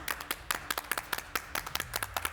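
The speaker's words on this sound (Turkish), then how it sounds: "Ben de o zaman alkışlıyorum." A few people clap their hands on a Turkish cooking competition show, giving a quick burst of sharp, uneven claps close by with no talk over it.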